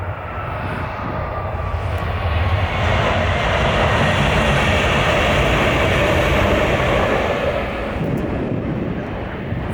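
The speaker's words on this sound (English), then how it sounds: "there are so many trains." Trains pass near the Nymphenburg Palace garden in Munich on a winter walk, a loud, steady rumbling roar that swells in the middle and fades slightly toward the end.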